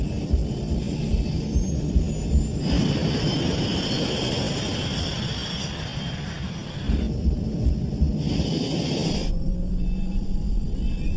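A loud, steady roar of jet engines with a deep rumble builds as a Scandinavian Airlines airliner rolls down a 2,400-meter runway on takeoff, with brief shifts in the sound partway through.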